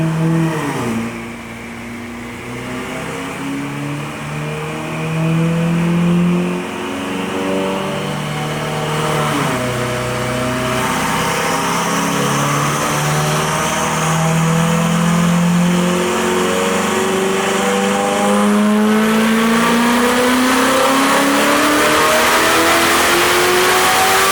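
Ferrari 488GTB fitted with upgraded turbos runs on a dyno, its engine revving loud and continuous with rising, falling and climbing pitch sweeps, no talk over it.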